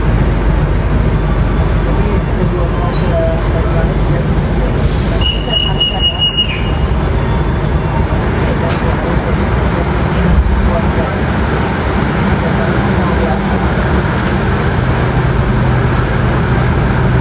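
Wijayakusuma economy premium train halted at Madiun station: a loud, steady rumbling hum of the idling train and platform, a brief high whine partway through, and faint murmuring voices in the background.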